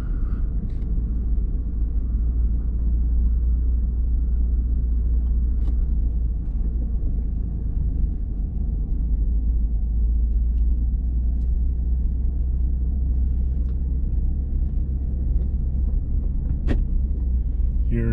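Ford F150 Tremor pickup on Goodyear Duratrac RT tires crawling off-road in 4-high through mud ruts, a steady low engine rumble with faint clunks and rattles, no talking.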